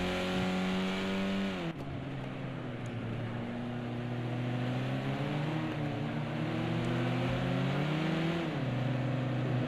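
Racing cars at Donington Park on a wet track, including a Vauxhall Astra, drone past with a continuous engine note that rises and dips through gear changes while a commentator talks over the top.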